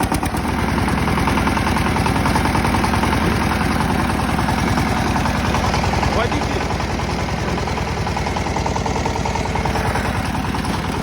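A Chinese truck driving through deep snow gives a loud, close, continuous diesel rumble with a steady rhythmic knocking pulse that persists throughout, with faint muffled voices underneath.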